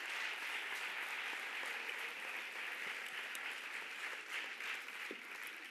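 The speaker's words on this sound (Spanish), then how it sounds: "esta parte del monólogo está hecha para que ustedes aplaudáis" Audience applause at a live monologue performance in Jerez, a dense, sustained wash of many hands clapping at even loudness from start to end.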